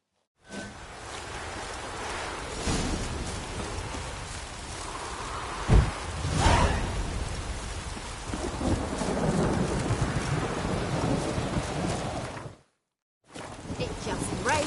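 Steady rain and rolling thunder in The Witcher video game on PS4, with one sharp thunder crack midway and a brief silence near the end before the downpour resumes.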